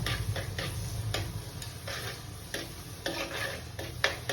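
A small dosa frying on a hot pan gives a soft, quiet sizzle broken by light scraping and ticking taps, with no voices.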